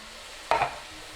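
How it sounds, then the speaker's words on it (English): Ravioli with diced tomatoes and their liquid, in sausage grease in a skillet, stirred once: a single short, wet scrape and slosh that rises abruptly and fades within a fraction of a second against quiet background. "Now we're adding in our diced tomatoes, liquid and all, and then we're going to stir that up."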